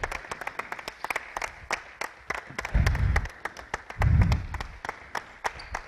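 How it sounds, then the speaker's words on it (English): Basketball players clap for teammates during an offensive drill, sparse sharp hand claps ringing out in a gym, with two heavier bursts of thumping movement in between. "you got to clap for your teammates while they're doing that"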